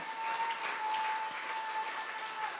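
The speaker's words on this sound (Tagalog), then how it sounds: "Palakpakan po natin ang ating Panginoon ng napakalakas na palakpak." A congregation at a Filipino church service claps for the Lord in a steady, continuous patter of applause, with a faint sustained tone running underneath throughout.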